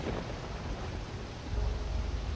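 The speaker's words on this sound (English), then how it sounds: "I think it adds to the atmosphere that it's raining right now." Steady rain hisses through the fantasy video game Risen, a dense, even wash of falling water with a faint low rumble swelling near the end.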